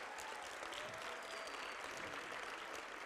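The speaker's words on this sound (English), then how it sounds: "Can we give Ms. Ralph another round of applause?" Audience at a health summit applauding Sheryl Lee Ralph, a steady wash of many hands clapping, faint and distant throughout.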